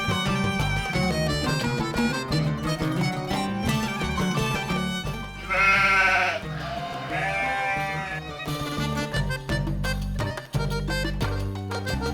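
Flocks of sheep herded by Bedouins near the village of Rachaïda bleat repeatedly, several animals calling close and overlapping, with steady movement and ambient noise beneath.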